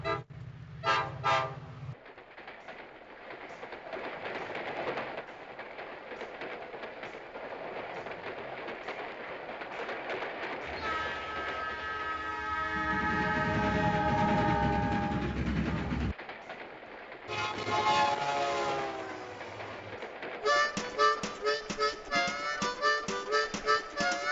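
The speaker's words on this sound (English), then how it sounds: "Train a coming down the track." A train on the track sounds several horn toots between stretches of rumbling rolling noise that swells and fades, with a rising whistle-like tone midway, fairly faint and distant overall.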